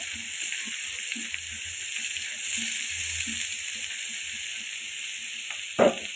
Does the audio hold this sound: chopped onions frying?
yes